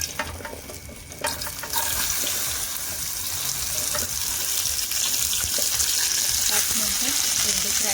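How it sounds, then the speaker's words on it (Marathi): Okra (bhindi) frying in hot oil in a pan on a gas stove, a loud, steady, close hiss and crackle that swells after a brief quieter start, with a voice speaking over it. "या तेलामध्ये आपण भेंडी फ्राय करून घ्यायची."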